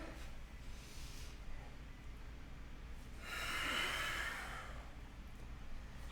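A single long, breathy exhale through the nose during a yoga session, rising and fading over about a second after quiet, soft breathing, close and intimate.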